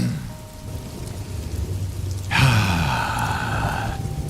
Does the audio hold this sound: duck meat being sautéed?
no